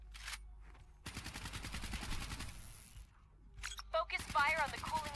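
Gunfire in the video game Call of Duty Black Ops 3: a short opening burst, then a long sustained rattle of automatic fire, then scattered shots, with a voice speaking near the end.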